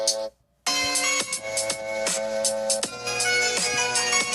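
Music from an iPhone's built-in speaker, a $1,000 flagship phone, plays loud and steady with dense melodic tones and a beat, broken by a short silent gap near the start before resuming.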